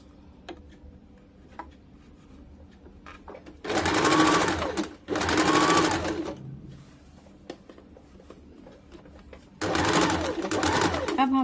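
A sewing machine stitching a katori cut blouse, three loud bursts of fast mechanical whirring close by, with a voice talking in the pauses between runs.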